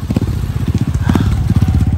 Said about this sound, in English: There's a motorcycle.